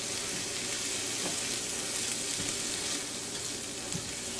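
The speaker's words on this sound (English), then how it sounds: "So it's starting to sizzle a little bit." Spam frying in a Copper Chef square pan, a steady dense sizzle that holds at an even level throughout, close and fairly loud, with no talking.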